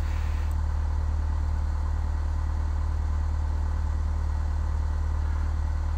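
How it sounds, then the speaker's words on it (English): A light aircraft engine idles in a flight simulator before taxi, a constant low drone with a steady fine rattle, loud and unchanging throughout. "because obviously our engine is running."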